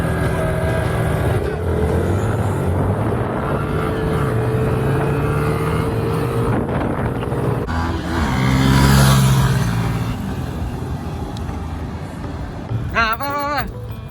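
Yamaha Exciter 155 VVA motorcycle engine on a test ride, a steady loud drone with a swell around a gear change, wind rush throughout and someone talking over it.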